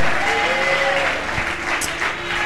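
A church congregation at a Sunday worship service applauds to acclaim the Lord, producing continuous, full-room clapping with a faint crowd murmur beneath it.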